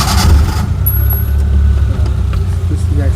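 A 2000 Maruti Omni van's engine runs with a low, steady rumble close by, a brief thin whine near the start and a few light knocks over the idle.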